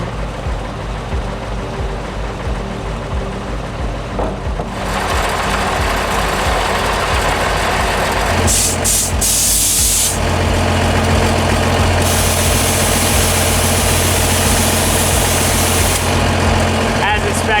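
A truck's engine idles steadily while it fills the air compressor mounted underneath, during an overland trip in Oman with a badly damaged tire. A loud, constant low rumble holds throughout, and a hissing burst of air joins partway through.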